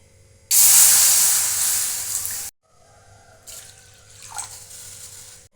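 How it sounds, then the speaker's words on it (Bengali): Water is poured into a wok on a gas stove, bursting into a loud spraying hiss for about two seconds before cutting off, followed by fainter simmering and hissing. "এখানে গ্যাসে কড়াই বসিয়েছি কড়াইয়ে আমি এই কাপেরই দেড় কাপ জল দেবো"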